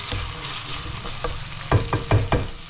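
Beef giniling with vegetables fries and sizzles in a pan while a spoon stirs it, giving a steady hiss broken by four scraping clunks toward the end, close up with no talk.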